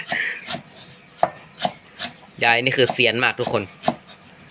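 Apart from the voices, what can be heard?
knife chopping vegetables on a board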